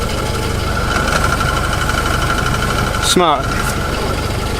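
Jeep engine idling with its cover off, a steady rattly mechanical drone up close, with a brief spoken word partway through.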